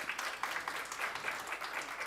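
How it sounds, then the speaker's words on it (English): Brief, fairly faint audience applause welcoming a panelist at an education policy discussion, a steady patter of many hands clapping with no talk. "A big round of applause for him,"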